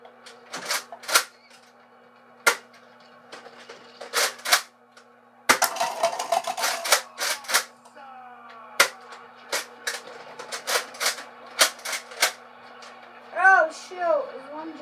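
A Nerf toy gun firing repeatedly, sharp clicking pops scattered irregularly through a quiet room, some in quick clusters, with a mechanical whir and faint voices in between.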